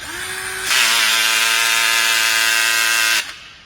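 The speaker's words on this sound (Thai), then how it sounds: "สว่านแบตของเราจะเป็นรุ่นมอเตอร์ใหญ่นะครับสามารถทนแรงหน่วงได้ถึงเบอร์ 18 โดยไม่น็อกดับนะครับ" STR 95V cordless drill with a large motor spinning up and running under load without stalling, a loud steady whine held for about two and a half seconds before it stops abruptly.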